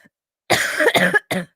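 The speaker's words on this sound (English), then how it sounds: "Wow, it's a bad cough." A close, harsh cough in two rough bursts, followed after a brief pause by a shorter third cough.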